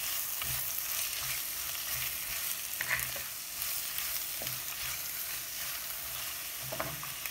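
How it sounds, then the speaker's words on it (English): Onions fry in a heavy-bottomed pan for chicken chinthamani, a quiet, even sizzle with occasional spoon knocks and stirring scrapes, no voices. "cook until onion wilts."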